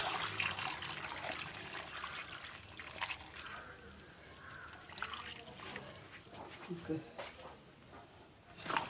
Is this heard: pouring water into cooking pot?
yes